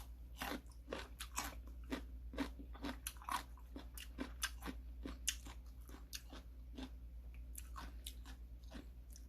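Crisp, crunchy bites of freshly mixed radish kimchi (seokbakji), not yet fermented, heard close up as a quick irregular series of crunches and chewing over a low steady hum, with no voices.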